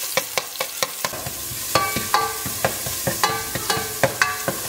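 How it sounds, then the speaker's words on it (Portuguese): Garlic frying in oil for rice, with a soft sizzle under quick, rhythmic metallic clinks and scrapes of a utensil stirring against the pan. "Vou botar o alho pra dourar."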